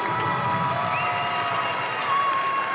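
Crowd cheering and applauding after a French basketball game, a steady wash of claps and shouts in a large hall at moderate level.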